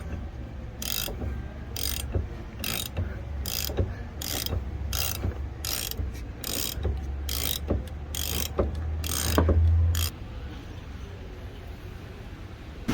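A ratchet wrench clicks in repeated quick bursts while loosening the differential flange on an LS-swapped S197 Mustang, about a dozen short ratcheting strokes close by, then a pause.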